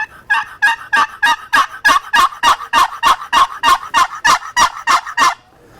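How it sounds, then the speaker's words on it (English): A wooden turkey box call makes a rapid, evenly spaced series of about sixteen loud, raspy yelps, close by and alone. "you could start out half yelping like."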